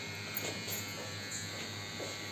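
Electric clippers buzz steadily and at close range while a customer is shaved in a barber shop, a constant low hum running the full length with slight shifts as the blade moves.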